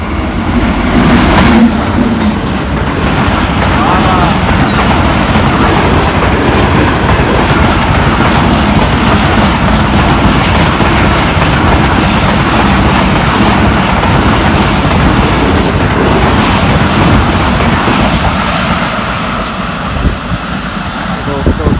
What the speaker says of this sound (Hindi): क्या ही आला स्पीड में गुजर गई है हमारी 15 अब कराची एक्सप्रेस।